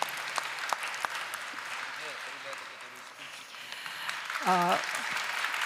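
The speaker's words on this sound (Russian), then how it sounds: "давайте поприветствуем аплодисментами" Audience applause welcoming a guest on stage at an official presentation, steady clapping from a hall with a voice talking briefly over it.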